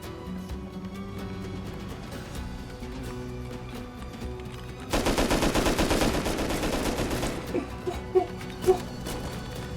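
Gunfire in the video game Rust comes as a sudden rapid burst of close, loud shots lasting a couple of seconds, followed by a few scattered single cracks over a low background hum.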